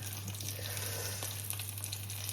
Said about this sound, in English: So there's my spam fritters sizzling away.